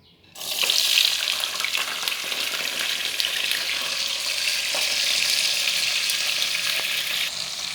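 Steady, loud sizzling of peppers frying in a hot pan, a continuous crackling hiss that starts abruptly and holds without pause.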